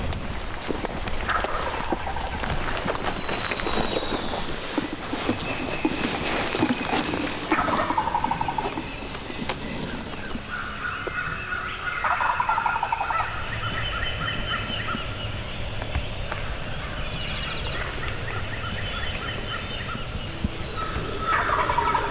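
A wild turkey gobbles repeatedly in spring timber, its rattling calls carrying from a distance through steady woodland ambience with no voices.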